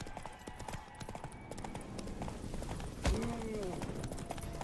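Roach, the horse in the Witcher 3 video game, gallops with rapid rhythmic clip-clopping hooves under game sounds, with a sharp burst partway through and a faint whinny-like tone after.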